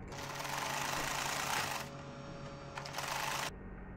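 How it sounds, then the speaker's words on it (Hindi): A sewing machine stitching fabric for a baby shirt, a fast, even mechanical whirring close by, briefly easing and surging before a quieter hum at the end, with no voices. "अब हम इधर भी सिलाई लगा देंगे"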